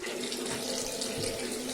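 Water gushes steadily from a kitchen tap after the supply has been shut off at the street, a dense even hiss with no voices, its flow about to ease.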